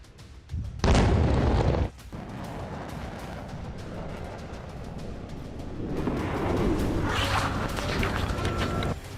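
Russian missile strike in Ukraine, a sharp loud boom near the start followed by a long rumbling roar and debris noise that swells again toward the end.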